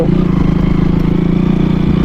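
A motorcycle with an automatic gearbox runs steadily on a Kavre ride, its engine a loud, close, even drone with a regular pulsing throb throughout.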